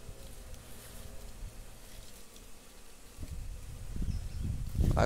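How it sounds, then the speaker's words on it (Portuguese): Honeybees swarm around an opened beehive, a dense, continuous buzzing close by that swells toward the end with some rustling handling noises. "Olha como é que elas estão, ó. Até na tampa tem abelha,"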